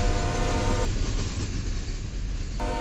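An ES-40 locomotive leads a CSX freight train past in a Roblox railfan game. Its low rumble and rolling rail noise stay loud and steady throughout, with no talking.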